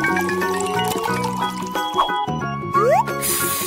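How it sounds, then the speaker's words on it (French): Ice cream mixture pours into an ice cream machine with soft liquid sloshing and dripping, heard under background music and tones. "il ne reste plus qu'à tout verser dans la machine et mélanger"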